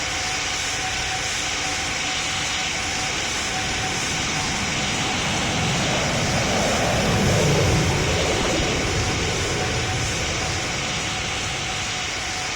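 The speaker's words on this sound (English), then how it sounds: "But there goes the engines. So yeah, listen to this departure." Jet engines of a Cebu Pacific Airbus A320 airliner departing in the PTFS flight game roar in a loud, steady broadband rush with a sustained tone, swelling slightly midway.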